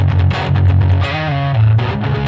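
Heavily distorted electric guitar chords from a Fender Stratocaster ring out loudly, with a fuzzy, saturated tone and a few sustained notes shifting in pitch.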